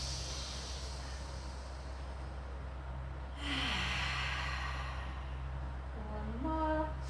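Breathing in during a rehab pilates exercise, two soft audible breaths, an airy inhale midway and another near the end, close and quiet over a low steady hum.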